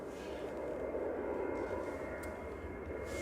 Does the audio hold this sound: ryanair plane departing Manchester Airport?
yes